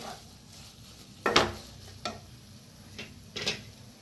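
Potato bhaji being stirred in a pan, a few scraping stirs and clinks of a spoon against the pan at irregular intervals over a soft steady sizzle.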